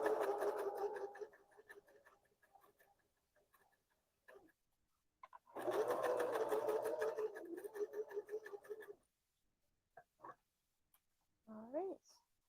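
A domestic sewing machine stitches tights in two bursts of rapid, even whirring with a ticking needle rhythm, close and moderately loud, separated by quiet pauses; short voice fragments come near the end.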